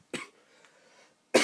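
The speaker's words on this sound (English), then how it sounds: "Sorry, I have a cough." Two short, dry coughs, close to the mic, separated by about a second of quiet.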